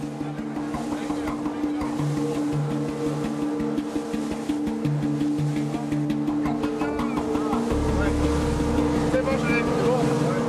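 A kwassa motorboat's engine drones steadily throughout, a continuous mid-distance hum with wind and water noise and a deeper rumble building toward the end, under faint speech.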